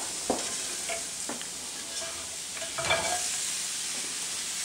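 Shrimp and vegetables sizzle steadily in a frying pan under a constant bright hiss, with a few sharp scraping stirs and clinks of a utensil against the pan, close by.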